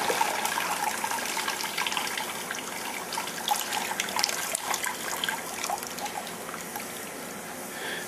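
Water poured from one container into another while brewing a homemade Klingon bloodwine beer, a steady splashing trickle running continuously throughout, close and fairly loud with no talking.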